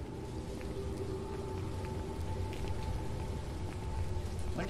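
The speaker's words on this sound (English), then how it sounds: "When did it start raining?" Rain falls in the Phasmophobia game, a continuous soft hiss of drops with a faint low rumble underneath and no talk.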